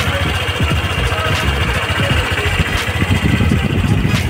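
A two-year-old Honda Click 125i version 2 scooter idles with a steady, rough mid-pitched engine hum and faint rattling vibration, close by and constant throughout.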